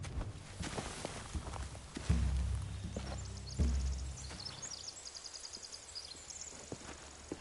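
Horses walk on hard ground in The Walking Dead: The Final Chapter game, with soft, irregular hoof clops and shuffling at moderate distance, plus a couple of heavier thuds and faint ambient clinks in the background.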